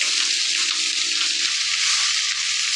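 Cabbage sizzles loudly in hot oil in a wok with dried chillies, bay leaves and cumin seeds, giving a dense, steady frying hiss heard up close and alone throughout.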